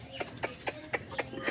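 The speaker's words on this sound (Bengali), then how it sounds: "তাই দেখতে পাচ্ছেন আমার মুরগিদেরকে এখন আমি খাবার দেব সকালবেলা" Chickens being fed in the morning give short, repeated clucks in a steady rhythm of about five or six calls, nearby and moderately loud with no talking.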